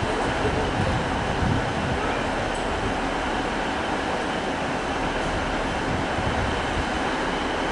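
Class 156 diesel unit 156415 idles at a platform in Lincoln station while being readied to depart, producing a steady low rumble with broadband station noise that holds constant for several seconds.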